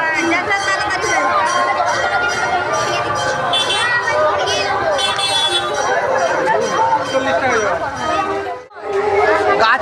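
Dense crowd chatter at a Rath festival, loud and continuous, with many overlapping voices and a brief dip in the noise near the end.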